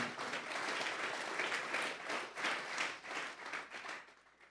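A church congregation claps together during a sermon, a sustained wash of many hands that holds steady for several seconds, then tapers off and fades toward the end.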